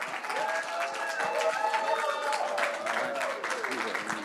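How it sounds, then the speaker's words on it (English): An audience at a surplus funds awards ceremony claps and cheers in a sustained burst of applause, with voices mixed into the crowd noise. "let's have a round of applause for Mr. Eric Richardson."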